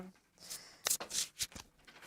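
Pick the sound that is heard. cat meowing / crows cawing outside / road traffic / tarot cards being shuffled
tarot cards being shuffled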